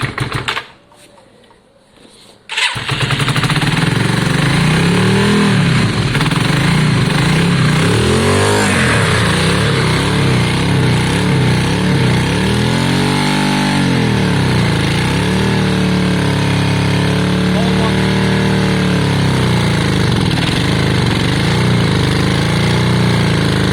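A Yamaha Virago V-twin motorcycle, just serviced with cleaned carbs and fresh spark plugs, starts after a brief quiet moment, then runs loudly and steadily at a rough idle with slight wavering revs, close by.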